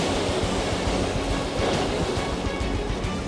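Ocean waves break and wash against shoreline rocks in a steady, loud roar of surf, with wind buffeting the microphone throughout.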